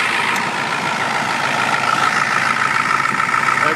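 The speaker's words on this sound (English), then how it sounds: "Good old turbo diesel." The 1994 Ford F250 turbo diesel pickup idles steadily and close by, a continuous clattering rumble with a faint whine from the turbo that holds an even tone throughout.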